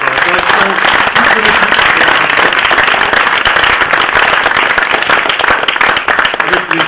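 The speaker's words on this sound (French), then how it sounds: "Donc que je vous demande d'applaudir vraiment très très fort." Loud, dense audience applause for Philippe Adrien and the actors, sustained vigorous clapping from a full house, close and unbroken throughout.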